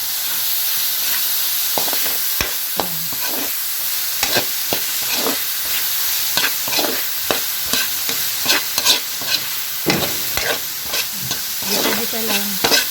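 Chopped tomatoes fry in a pan for ginisang Baguio beans under a steady hiss and sizzle, with frequent sharp scrapes and clacks of a spatula stirring them close by.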